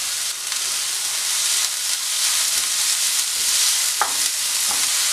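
Onion and spinach stems sauté in a pan, giving a broad continuous hiss with soft stirring scrapes and a couple of brief clinks near the end.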